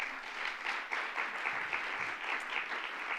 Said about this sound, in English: let's give a round of applause to that